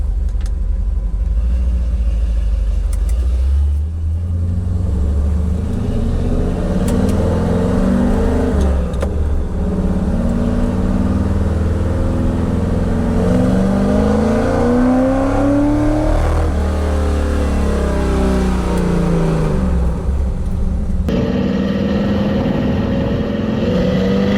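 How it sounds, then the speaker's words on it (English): A Ford FE 390 V8 truck engine revs up hard and holds high, the roar getting rough and fluttering from valve float near the top before dropping back. "listen for the truck to break up, because that's what valve float sounds like"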